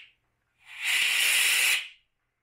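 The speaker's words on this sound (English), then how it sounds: "you'll always want to crack this a little bit to blow out any debris" A welding gas cylinder valve is cracked open to blow out debris, giving a single loud, close, steady hiss of escaping gas that lasts about a second and a half before it is shut off.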